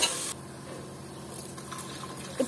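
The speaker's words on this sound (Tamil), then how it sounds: "இப்போ நம்ம தண்ணி ஊற்றிக்கலாம்." Water pours steadily into a cooking pot for kuska rice, a soft continuous splashing trickle heard close and alone after a brief louder start.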